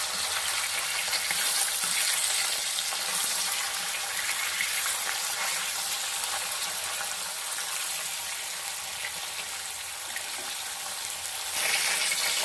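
Pieces of fish fry in hot oil for a Bengali light fish curry, giving a steady, dense sizzle throughout with no talking.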